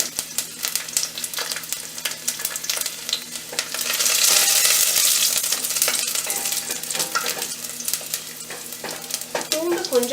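Fenugreek seeds sputter and crackle in hot oil for a Tamil-style tomato pickle, a dense continuous sizzle that swells louder midway with scattered sharp pops and occasional stirring clinks, no voices.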